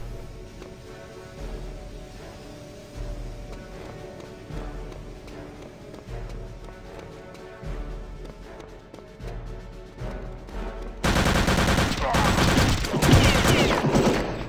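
Rapid machine-gun bursts in Return to Castle Wolfenstein, repeated clattering fire through the clip with a louder, denser stretch near the end, over background game noise.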